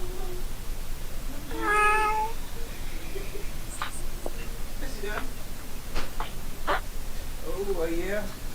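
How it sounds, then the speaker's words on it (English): A cat meows several times at close range in short rising calls, heard under ongoing talk with low background noise. "is that a cat?"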